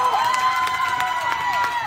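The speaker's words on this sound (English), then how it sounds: "Crowd is fired up." Crowd at a peewee hockey game against the Chicago Stallions cheering after a penalty kill, a lively mix of shouts and clapping with a high whistle-like tone sweeping through, voices mingled in.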